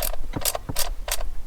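A socket wrench with a 10mm socket ratchets in four quick, close clicking bursts, tightening a clamp on a Toyota air intake during spark plug work on a Land Cruiser-family engine.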